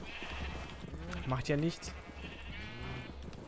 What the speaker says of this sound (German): Und hier steht schon wieder ein Schaf, steht wieder draußen.